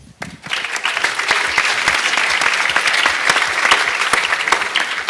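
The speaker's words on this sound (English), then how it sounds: "Please applaud now Jarno Besselink." An audience at a bachelor's diploma ceremony bursting into applause for a graduate, a dense, loud, steady roar of many hands clapping that starts abruptly and holds for several seconds.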